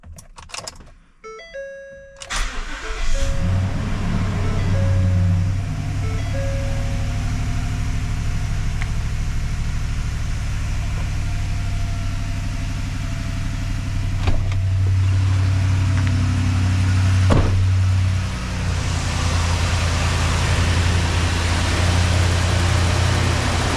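A Ford Super Duty 6.2 V8 pickup, recently repaired after a broken valve spring, cranks briefly with a few chimes, then fires and settles into a steady, close idle that runs on smoothly for the rest of the clip.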